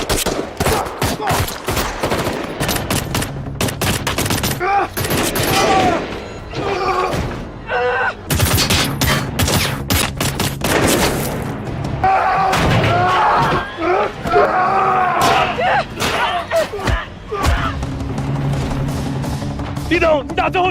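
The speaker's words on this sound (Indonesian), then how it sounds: "Namun Zaka malah memberinya dengan serangan tembakan" Rapid bursts of automatic gunfire and single shots crack through a film action sequence, interspersed with thuds and slams, loud and dense throughout with voices heard in between.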